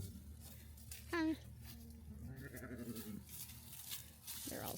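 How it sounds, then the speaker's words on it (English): Baby goats at a farm near Custer State give one short, wavering, high bleat close by, amid soft background chatter and other quiet livestock noises, while someone talks to them. "Little baby goat."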